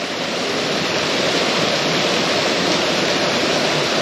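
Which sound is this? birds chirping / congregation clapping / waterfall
waterfall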